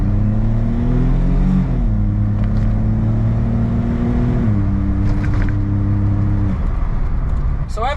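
Suzuki Jimny pulling hard in first gear from about 20, engine note climbing steadily in pitch, dipping briefly at a shift point and rising again, loud and close from inside the cabin.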